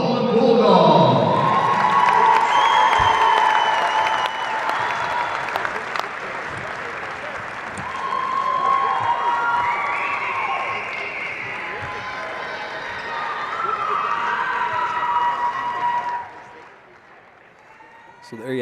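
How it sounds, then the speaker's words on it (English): A crowd of Baldwin Bulldogs basketball fans in Salina applauds and cheers loudly after a state third-place game, with sustained clapping and shouts that gradually fade before dropping off near the end. "a nice round of applause from the Baldwin faithful who made the trip here to Salina to salute the Bulldogs"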